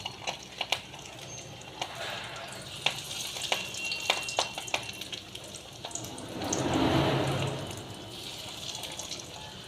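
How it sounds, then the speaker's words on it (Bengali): Fish roe fritters frying in hot oil, a steady low sizzle punctuated by scattered crackles and pops, with a brief swell of bubbling midway; no talking. "যেগুলো আবার নতুন করে দিয়েছি সেইগুলো ভাজা হচ্ছে"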